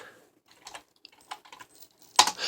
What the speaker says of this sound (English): I'm typing my email in real quick